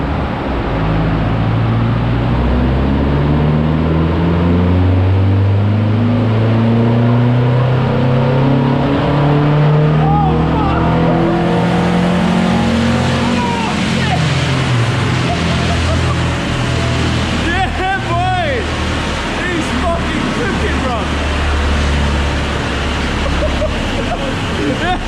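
VW Lupo with a modified airbox intake accelerating hard, a loud rising engine drone climbing through the gears with rushing wind noise throughout, close and continuous.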